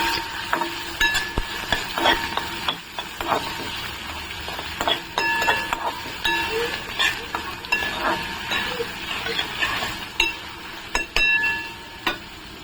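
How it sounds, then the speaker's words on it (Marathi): Finely chopped onion sautés in hot oil, a close sizzle broken by frequent scraping stirs and light clinks of a utensil against the pan, with no one speaking. "बारीक चिरून घेतलेला कांदा आहे ना तो ह्याच्यामध्ये ॲड करणार आहे। छान आपण आहे ना तेलामध्ये परतून घेऊया।"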